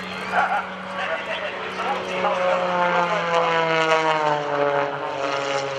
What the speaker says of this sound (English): He's going to use all 400 horse from that motor using that Hartzell propeller